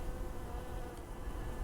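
Honeybees buzzing at a hive during an inspection, a steady dense hum of many bees, fairly quiet and continuous without pause.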